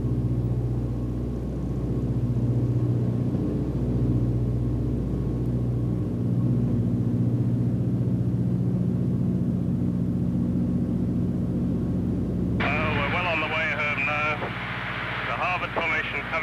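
Aircraft engines drone steadily and loudly as display planes, including Gary Numan's and a US Navy aircraft, pass over the white cliffs of Dover at a 1991 air display, with a voice over the rumble near the end.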